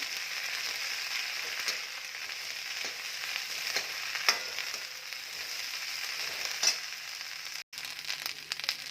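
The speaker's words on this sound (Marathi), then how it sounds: "आता मी यामध्ये भेंडी टाकत आहे भेंडी ही तेलावर अशी परतून घ्यायची आहे" Okra (bhendi) frying in a little oil in a pan while being stirred, a steady bright sizzle with occasional scraping strokes and one brief dropout near the end, close and continuous without speech.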